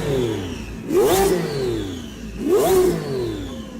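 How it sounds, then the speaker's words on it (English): A twin-turbo Lamborghini Revuelto engine revs twice in quick succession, each rising, sweeping blip climbing and falling back toward idle, heard from moderately close with no talk. "The Lamborghini Revuelto. It sounds pretty cool with a couple of turbos bolted onto it."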